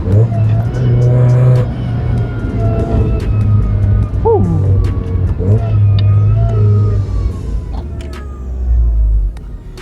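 A supercharged Mazda MX-5 Miata accelerates hard with a loud, close engine drone and rising revs, easing briefly between pulls before surging again.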